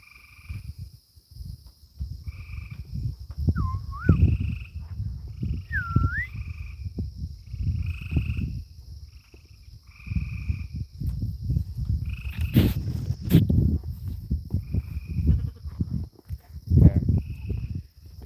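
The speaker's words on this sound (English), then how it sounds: "You hear the frogs getting active" Frogs and toads croaking at dusk on a farm with sheep nearby, a steady chorus of short repeated calls at a moderate distance, with a few higher chirping notes and low rustling and footstep-like thumps underneath.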